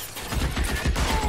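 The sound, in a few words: gunfire in a video game gunfight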